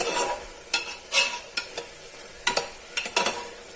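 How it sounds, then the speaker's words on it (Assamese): Papaya halwa mixed with a spoonful of milk powder gets stirred in a pan, the spatula scraping in quick irregular strokes over a light sizzle, close and fairly loud. "এইখিনি তাৰপিছত আকৌ অকণমান সময় এনেকৈ লাৰি থাকিব লাগিব"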